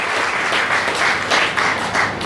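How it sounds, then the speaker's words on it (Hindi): Audience at a Teacher's Day celebration in a Delhi hall breaks into steady, sustained applause, dense clapping at a fairly loud level throughout, with no speech over it. "तो आप इन सबका स्वागत जोरदार तालियों के साथ करेंगे"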